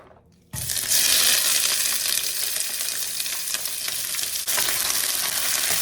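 Loud sizzling erupts suddenly as onion and garlic hit hot oil in a frying pan, a dense continuous frying hiss with a brief stir-like break near the end.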